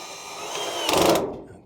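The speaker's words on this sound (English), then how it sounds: "So now what I'll be doing again is putting the screws back on the inside." A power drill briefly whirs while driving screws back into the inside of a Kenmore Whirlpool dryer during a pulley repair, a short close burst rising and then cutting off.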